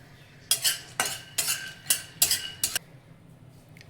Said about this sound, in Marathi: आता आपण त्याच कढईमध्ये शेंगदाणे भाजून घेणार आहोत